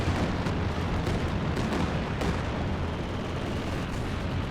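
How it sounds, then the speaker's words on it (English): Artillery fire in Company of Heroes 2 during a 4v4 match on White Ball Express, with white phosphorus rounds landing: a dense, continuous rumble of blasts and booms filling the whole stretch, loud and unbroken. "artillery just annihilated all the better German infantry"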